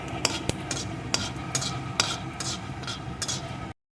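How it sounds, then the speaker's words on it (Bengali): Whole cumin, a bay leaf and a dried red chili fry in hot oil in a pan, with a steady sizzle broken by sharp scrapes and clinks of a spatula stirring the spices. "এখন ফোড়নটাকে সুন্দর করে আমি ভেজে নেব"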